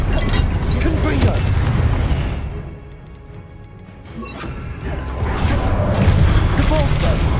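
Confringo spell blasts in Hogwarts Legacy sound as heavy booms and crashes at the start and end, with a mechanical ticking patch between them during a quieter lull in the combat noise.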